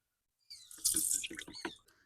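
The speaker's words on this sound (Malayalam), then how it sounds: "അരിച്ചെടുത്ത ഫിഷമിനെ ആശ്രയിച്ച് നമുക്കൊരു പാത്രത്തിലോട്ട് ഇത് ഇങ്ങനെ പകർത്താം" Strained fish amino acid liquid is poured into a container in one short, close splashing stream that starts abruptly, swells and then trails off, with no talk.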